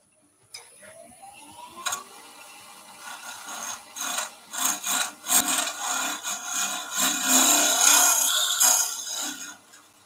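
Rounding over the bottom of a handmade wooden flower, a quiet close-up run of rhythmic rasping and rubbing strokes on wood, after a brief rising squeak at the start.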